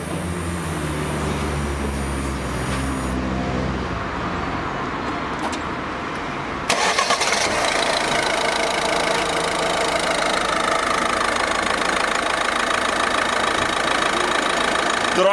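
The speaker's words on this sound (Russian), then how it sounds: "давай попробуй, заведу мотор" A Citroen C4 engine turns over and catches at night, then settles into a steady, rumbling idle that continues loud and close with a metallic rattle.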